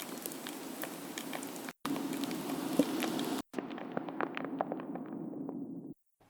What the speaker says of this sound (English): that's the sound of all the bubbles from the lathered soap essentially popping as they go down the drain.